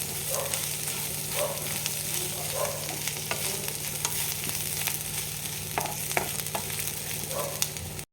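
Grated coconut fries in oil with shallots, garlic and curry leaves, giving a constant close sizzle broken by scraping stirs and scattered crackles.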